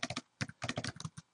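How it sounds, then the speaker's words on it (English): Rapid keystrokes on a computer keyboard while entering text into MathCad software, a quick burst of close, crisp clicks in uneven clusters with short pauses between them. "You can also start text by just typing."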